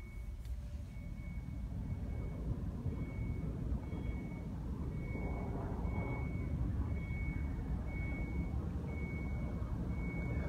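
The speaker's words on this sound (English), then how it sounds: "So there's some chimes. Hopefully you can hear that." Reversing chimes from a 2018 Nissan Leaf electric car, a steady series of evenly spaced short beeps repeating throughout over a low broadband rumble, with no talking.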